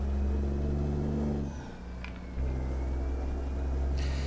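A Cummins ISX Signature truck engine in American Truck Simulator drones steadily under heavy load. It drops briefly as the automated gearbox shifts up, then pulls back in with a deeper, louder rumble.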